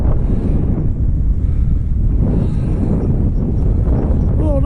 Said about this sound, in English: Oh wow! Really windy.